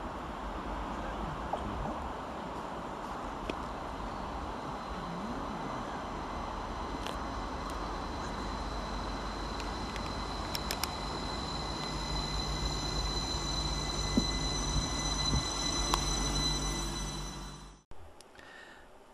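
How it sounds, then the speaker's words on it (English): A Northern Class 333 electric train, unit 333-003, arrives at Steeton and Silsden station with a continuous rumbling rolling roar and faint whining electric tones, building slightly as it comes in and then stopping abruptly. "here comes our train in the form of 333-003, working the 1427 Northern Service from Skipton to Leeds"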